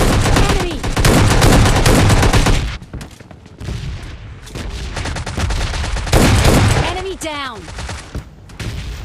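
Rapid gunfire bursts and shots ring out during a close-quarters house fight in PUBG Mobile Lite, with heavy overlapping fire at first, then sparser shots and game effects.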